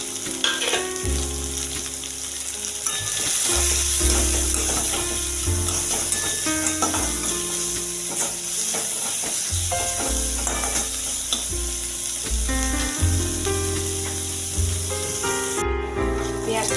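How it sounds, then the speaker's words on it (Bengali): Chopped onion and garlic fry in a pan with a loud, continuous sizzle, broken by stirring scrapes, and a steady hiss of hot oil throughout. "পেঁয়াজ কুচি পেঁয়াজ রসুনটা ভালো করে ভেজে নেব"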